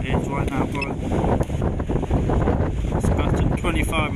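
Strong gusting wind of about 25 mph buffets the microphone at a campsite on the Isle of Wight, with loud, rumbling roars, and a voice speaks briefly underneath.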